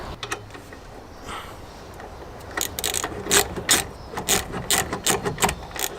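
A ratchet wrench clicks rapidly in quick bursts while undoing a brake caliper pin on a car, faint at first and then louder, brisk and close by, with no talking.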